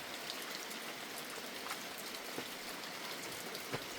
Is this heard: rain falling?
yes